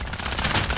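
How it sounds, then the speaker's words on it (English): Rapid video-game gunfire aimed at the player, a dense burst of close, loud machine-gun shots rattling without pause, with no talk. "We're getting shot at."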